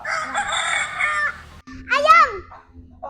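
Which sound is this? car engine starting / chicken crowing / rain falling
chicken crowing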